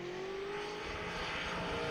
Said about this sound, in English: This is a pro-charged LSXR engine.